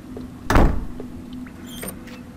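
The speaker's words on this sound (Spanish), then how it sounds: "Cerrar la puerta con más delicadeza" A door slams shut in the horror video game The Curse of Blackwater, a single loud thunk followed by a short rattle and a faint second knock, set against a quiet ambient hum.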